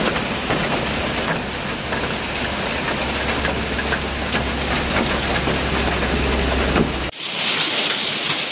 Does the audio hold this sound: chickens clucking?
no